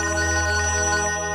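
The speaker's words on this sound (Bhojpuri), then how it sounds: "अरे अंजलि के फोन आवता।" A mobile phone ringtone plays steadily and loudly on its own, a continuous tonal melody with no talk over it.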